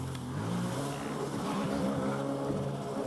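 A Sea-Doo Spark Trixx jet ski engine drones steadily at close range while the rider attempts a donut on the water, its pitch wavering slightly with throttle changes, with no speech.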